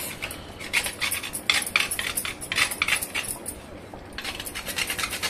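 Nutmeg is rubbed against a small metal grater in a home kitchen while Sakhar Amba mango preserve is being made. It gives a run of close, crisp rasping strokes in quick irregular bursts with a short pause near the end.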